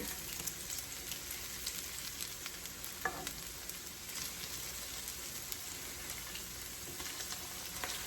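Latkes frying in a pan of hot oil, a steady close sizzle and crackle running throughout with a brief sharper pop near the middle.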